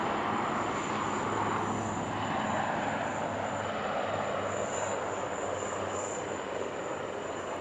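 Military helicopters of the Sarang display team fly at an airshow, giving a steady, distant engine and rotor drone that stays even throughout.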